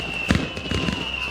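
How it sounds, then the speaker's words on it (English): Fireworks burst in the Pioneers of Pagonia video game, a couple of soft pops and crackles over a steady tonal game hum, with no voice. "Fireworks."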